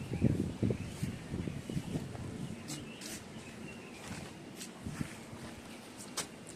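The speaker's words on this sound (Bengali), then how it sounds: "আজকে না হাওয়া দিচ্ছে, দেখেছো চুলগুলো উঠছে কেমন" Wind blowing outdoors around a home, with a rough, gusty rumble against the microphone that is strongest at the start and then settles into a steady breeze, with a few faint sharp ticks.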